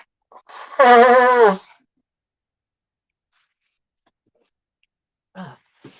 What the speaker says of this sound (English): for those of you who've never heard me blow my nose before